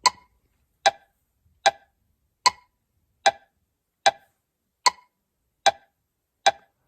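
Evenly spaced woodblock metronome clicks in 3/4 time with an accented first beat, nine crisp ticks at a steady moderate tempo, each short and bright against silence.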